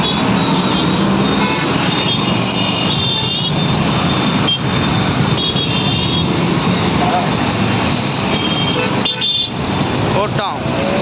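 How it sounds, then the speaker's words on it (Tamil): Busy Chennai city road traffic, a dense steady roar of passing vehicles with repeated horn toots scattered throughout, under a voice talking nearby. "எத்தனை வண்டி போகுதுன்னு பாருங்கள்."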